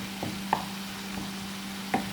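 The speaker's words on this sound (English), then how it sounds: "I'll mix my all spices now" Spices stirred in a cooking pan, a few soft scrapes and taps of a spoon against the pan spaced irregularly over a low steady hum, close and fairly quiet.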